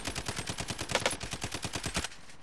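Automatic gunfire in Call of Duty: Warzone, a rapid, evenly spaced string of about fifteen shots lasting two seconds, moderately quiet and somewhat distant, ending abruptly.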